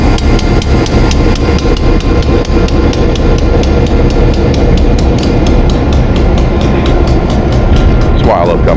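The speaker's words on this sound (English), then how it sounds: "They're diesels pulling it, no steamers today pulling it." Diesel locomotives pulling a passenger train at a transportation museum in North Carolina, a loud, close, continuous rumble of engines with rhythmic clanking of rail cars passing steadily throughout.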